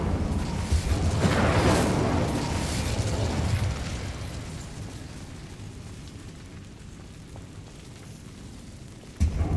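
Incendio fire spell cast in Hogwarts Legacy, a loud whooshing burst that flares at the start and slowly fades into a low rumbling roar, ending with a sharp second burst.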